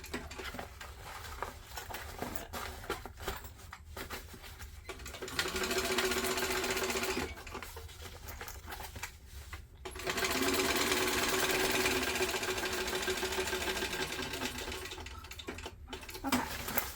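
Domestic sewing machine stitching down a backpack seam, running in two sustained bursts of steady rapid whirring separated by quieter handling noise, close and loud.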